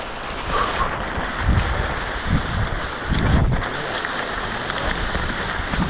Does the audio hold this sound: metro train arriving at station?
no